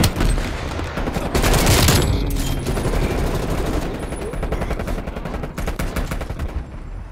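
Rapid automatic gunfire from the video game Call of Duty: Black Ops Cold War hammers close and loud in dense bursts, with overlapping shots continuing throughout.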